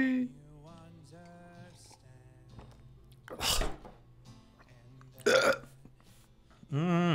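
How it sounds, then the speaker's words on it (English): A person burps loudly after drinking tobacco tea: three distinct, drawn-out belches spaced a couple of seconds apart, close to the microphone, with softer voiced sounds between them. "I'm starting to burp a lot."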